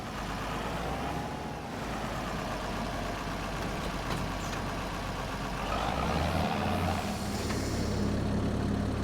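Tractor engine in a farming video game, a steady low diesel drone with a slight rise in pitch and load toward the end, heard alone without talk.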